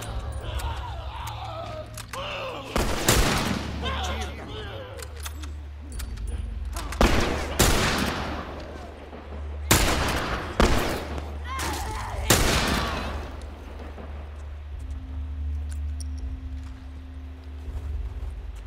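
Several loud gunshot bursts from The Last of Us Remastered crack out at intervals over a steady low hum, with faint game background sounds between them.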